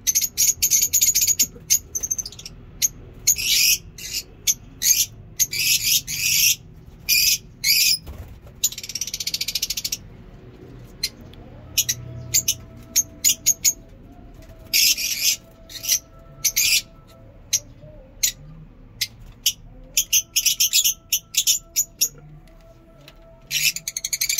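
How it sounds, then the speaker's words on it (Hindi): Bright, rapid chirps and tweets from lovebirds, fairly close, in dense bursts with short pauses, over a low steady background hum. "और ये हमारे लव बर्ड्स आप देख सकते हैं, काफ़ी खुश आवाज़ें निकाल रहा है।"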